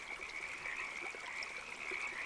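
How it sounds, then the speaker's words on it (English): Tree frogs croak in a steady, high, continuous chorus, faint and even, with no voices. "Not all of them are tree frogs."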